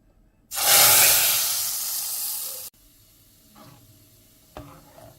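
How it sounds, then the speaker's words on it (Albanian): Hot browned butter with red pepper poured onto chicken soup gives a sudden loud sizzling hiss that starts abruptly, holds for about two seconds while slowly fading, then cuts off, followed by quiet clinks and faint movement. "unë sipër do t'i shtoj edhe pak gjalp të djegur me pak piper të kuq"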